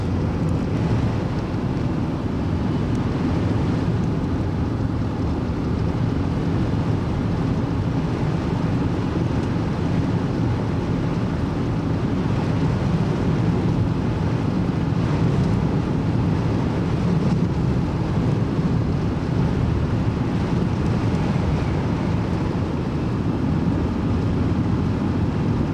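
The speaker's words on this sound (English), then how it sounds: "Pretty windy." Steady, loud wind roar buffeting a car driving through western New England after the March 1993 Storm of the Century, a constant low rushing noise with no breaks and no voices.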